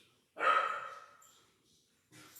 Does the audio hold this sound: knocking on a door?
no